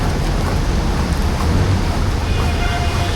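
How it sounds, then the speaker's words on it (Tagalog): Dense, continuous hiss of heavy rainfall mixed with gusting wind during flooding in Manila along Roxas Boulevard, loud and unbroken throughout. "Sobrang lakas ng ulan."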